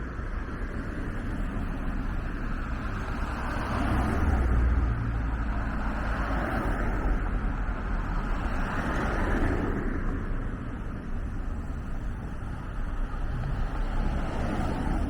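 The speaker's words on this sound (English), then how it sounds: "this trash removal truck seems to be blocking the view" A trash removal truck idles on a Toronto street at night, giving a low, steady diesel rumble mixed with surrounding traffic noise. It swells slightly midway and carries on continuously, with no voices.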